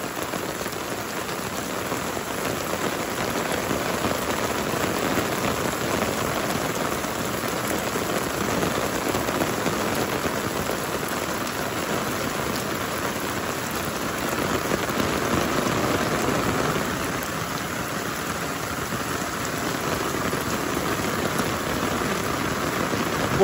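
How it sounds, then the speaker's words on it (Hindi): Very heavy rain pours down steadily outdoors, a dense, continuous hiss of drops hammering the ground and surfaces, loud and unbroken throughout with no voices. "बहुत तेज बारिश"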